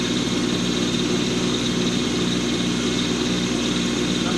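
A Kubota compact tractor runs a snow blower on a frozen pond rink, a steady loud engine drone with a broad whooshing roar that stays constant throughout.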